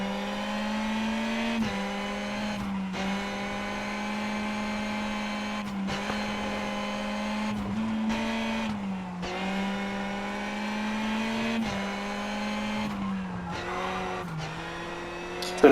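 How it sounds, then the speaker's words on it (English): A rally car engine in the WRC Generations racing game drones steadily as the car slides on a stage, its pitch dipping and bogging down several times, then picking up again, with no talk. "So notice the engine bogging down when the car was sliding like that."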